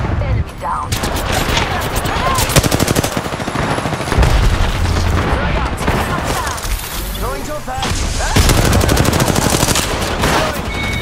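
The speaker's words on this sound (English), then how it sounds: "They're shooting at me." Enemies fire at close range in Apex Legends: dense, continuous bursts of automatic gunfire with rapid repeated shots and heavy impacts, loud throughout, while game voices speak over the shooting.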